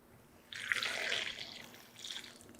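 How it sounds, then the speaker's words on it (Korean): Flour porridge broth poured over salted chili peppers while making water kimchi, a close, steady liquid splashing that swells and then tapers over a couple of seconds, with no talking. "여기다가 네, 이제 풀국을 부어 줄 건데요. 풀국을 부어 줄게요."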